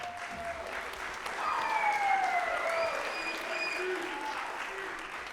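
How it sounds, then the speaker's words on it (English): Warm, sustained applause from an audience at a high school symphonic band winter concert swells and holds across the clip, clapping dense and fairly close. "give him a round of applause."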